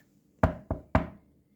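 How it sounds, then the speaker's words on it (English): Three sharp knocks on a wooden door, the second a little softer, spaced unevenly within about half a second, close and clear against near silence as a sound effect in a spoken story. "One stormy night, he and his mother were at home when they heard a knock on the door."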